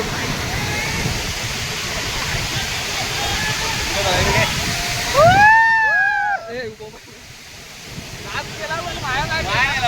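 Savatkada waterfall in Rajapur taluka roars as a steady broadband rush of falling water, mixed with wind noise on the microphone, while people talk and call out over it.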